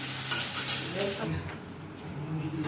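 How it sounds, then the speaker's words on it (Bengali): Chopped onion fries in hot oil for beresta, a dense sizzle with stirring and scraping against the pan, loud and close, easing off after about a second. "দেড়খানা পেঁয়াজের কুচি আমি বেরেস্তা করে নেব"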